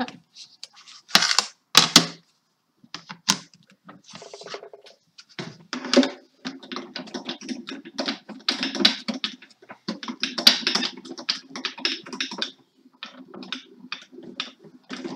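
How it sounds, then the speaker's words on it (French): A die-cutting machine's hand crank turns in bursts of rapid clicking and ratcheting, close up, with short pauses between stretches of turning. "Ce que vous entendez, c'est la manivelle,"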